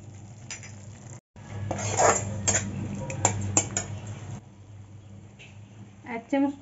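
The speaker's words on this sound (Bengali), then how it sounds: "দিয়ে ভালো করে নাড়িয়ে নেব, ভালো করে নাড়িয়ে কষিয়ে নেব।" Ground spices, including Kashmiri chilli powder, being stirred in a pan for matar paneer: spatula scrapes and clinks against metal with a faint sizzle, close by, with someone talking over it.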